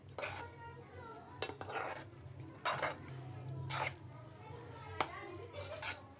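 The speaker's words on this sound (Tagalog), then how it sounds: "Haluin muna natin mabuti bago natin tikman." Spoons scrape and clink around a bowl as salad is mixed with mayonnaise, several distinct knocks spaced a second or so apart with soft voices talking faintly in the background.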